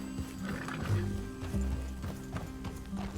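Horses in the Red Dead Redemption 2 video game, hooves clip-clopping with snorts and a whinny, fairly faint and close, with no talk over them.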